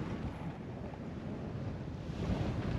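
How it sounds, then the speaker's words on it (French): Steady crosswind buffets the microphone over the wash of water against a sailboat under sail with its engine off, a continuous rushing noise with no voices. "Un petit vent de travers qui est plutôt sympathique."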